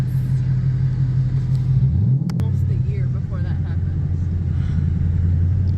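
A deep, steady 2012 Ford Mustang Boss 302 V8 engine rumble idles close by, with a brief rev partway through, while people talk excitedly over it.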